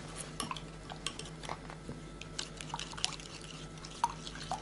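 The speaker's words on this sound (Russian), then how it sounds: "И все хорошенько это размешиваем." Spoon stirring a marinade of honey, black pepper and spices in a bowl, with faint clinks and wet sticky scraping, quiet and close, in irregular strokes.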